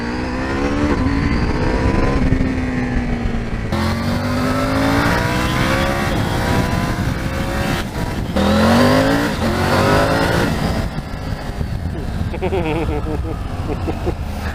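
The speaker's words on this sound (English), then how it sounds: "These tyres are not designed for mud at all." Car engine revving hard with rising and falling pitch sweeps as the tyres spin in mud, loud and continuous throughout with surging bursts.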